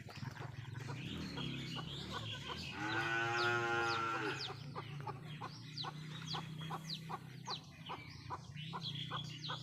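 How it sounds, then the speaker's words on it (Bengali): A goat bleats once, drawn out and fairly close, on a village farm with ducks and chickens, while birds chirp repeatedly and a low steady hum runs underneath. "এখানেও দুটো ছাগল আছে"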